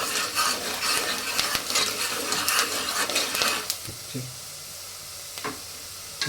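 Onions sizzle loudly in a pan for mutton keema curry while being stirred with scraping spoon strokes, then the frying quiets and a few clinks of utensils follow.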